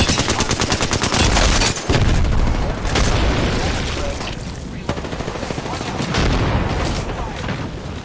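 Gunfire in a shooter video game, with loud, dense bursts of rapid shots and booms running through most of the stretch amid game effects.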